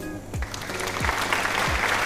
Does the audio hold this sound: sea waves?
no